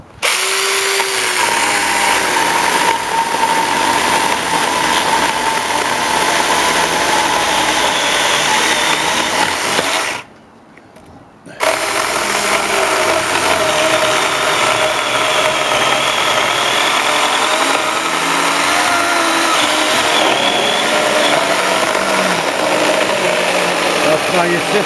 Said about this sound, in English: I'll actually get the 4-inch chainsaw